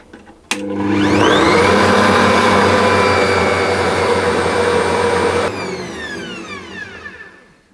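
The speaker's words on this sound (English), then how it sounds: "I'm going to add the eggs in, but I'm going to add them one at a time and whisk them just to get them combined." An Ankarsrum stand mixer whisks eggs into pistachio cake batter, starting abruptly with a loud, steady motor whir that runs for about five seconds, then drops in level and winds down toward the end.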